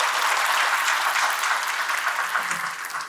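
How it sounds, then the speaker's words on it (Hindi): An audience at a national theatre festival breaks into loud, sustained applause, many hands clapping densely and steadily before tapering slightly near the end. "इसके लिए अयान सर के लिए जोरदार तालियां बजाई जाती"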